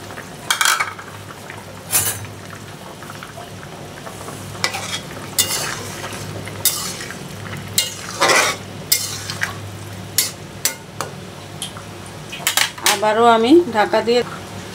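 A spoon scrapes and clinks against a pan of sizzling curry as tomatoes go in and get stirred, irregular metallic knocks over a steady frying hiss, close and fairly loud, ending in a burst of bubbling sizzle.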